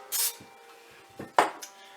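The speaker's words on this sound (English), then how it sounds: "once you spray your pan" Cooking spray hisses onto a bundt pan in short bursts: one spray near the start and another sharp burst later, with light clinks of the pan between, close up and without talk.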